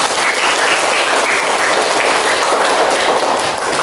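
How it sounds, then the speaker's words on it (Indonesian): Students in a classroom clap together for a group after its presentation, a dense, steady burst of applause at close range with no talking. "Aplaus untuk kelompok."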